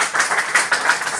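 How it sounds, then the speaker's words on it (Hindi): A small crowd at a girls' cricket tour gathering claps briefly in a quick, uneven patter of hands, close and fairly light, with no voices over it. "ज़ोरदार तालियां बजाइए अपने लिए।"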